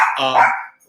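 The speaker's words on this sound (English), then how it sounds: "sorry for the dogs." A dog gives a single loud, close bark that trails into a short whine, with nothing else around it.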